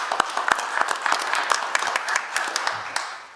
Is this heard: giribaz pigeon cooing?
no